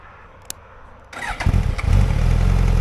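A Suzuki GSX-S950 motorcycle fires up with its smart start system: a short click, then the engine catches and settles into a loud, steady, throaty idle close by.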